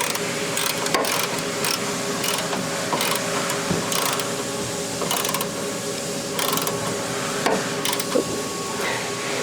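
Steady clicking of a hand wrench tightening short frame overlay bolts on a Ford F-250/350 truck, regular and close, over a constant background hum.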